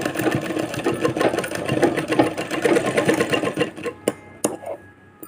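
A sewing machine stitches cord onto a blouse neckline, loud and near, with a fast continuous whirring rattle that stops near the end, leaving a few clicks.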